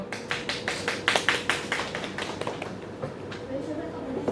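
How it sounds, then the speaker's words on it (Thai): Wedding guests clap for the bride and groom on stage, a fairly faint, slightly distant run of distinct claps with a loose rhythm that thins out over several seconds under a low murmur of voices. "ขอเสียงปรบมือให้กับทั้งคู่ บ่าวสาวบนเวทีด้วยนะครับ"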